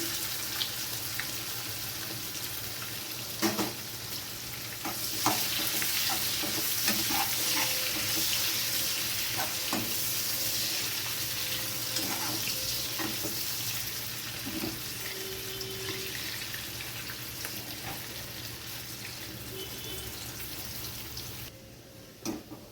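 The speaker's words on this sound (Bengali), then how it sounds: "পেঁয়াজটাও হালকা ভাজা হয়ে গেছে" Thinly sliced onion frying together with eggplant in an oil-filled pan gives a steady, close sizzle that runs the whole clip, with scattered scrapes and stirring taps and a brief drop near the end.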